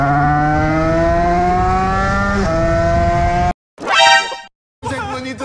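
A Derbi moped with an 80 cc kit revs hard to high pitch in a long sustained whine that rises in pitch, then cuts out briefly and comes back in short bursts while riding toward town, loud and close.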